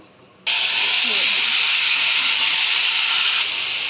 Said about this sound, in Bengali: এবার ফুলকপি আলুগুলো ভেজে নেব